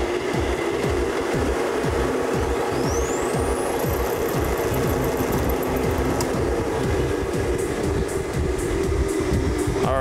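A wheel spun up fast for a Uranus tilt demonstration gives a loud, steady mechanical whir with rapid rhythmic rattling and a rising whine as it picks up speed, with no talking.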